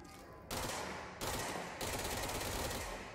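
A Spin service weapon fires in the video game Control in rapid automatic bursts, three quick volleys of dense crackling shots, quiet and without voices.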